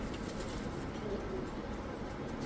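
Pigeons coo softly in the background at a busy pigeon market, with low, faint murmuring calls under a constant crowd hubbub.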